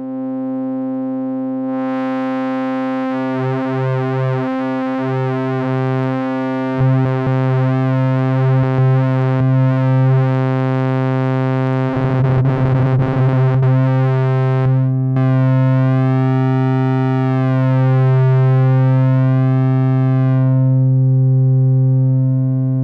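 Synthesizer oscillator tone modulated by a simulated chaotic pendulum, a loud sustained buzzy drone whose pitch and texture wobble, stutter and sweep unpredictably over a long stretch.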